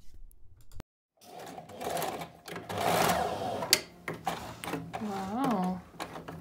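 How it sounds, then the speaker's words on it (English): Domestic sewing machine stitching the side and shoulder seams of a corset top, lining and main fabric together; bursts of fast mechanical whirring with brief pauses, close by, and a voice talks over parts of it. "sewing down the side seam and shoulder seam"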